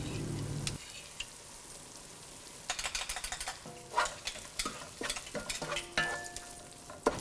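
Cashew paste being stirred into egg biryani masala in a pan over low flame: a quiet stretch, then repeated close scraping and stirring strokes with soft sizzling, no talk.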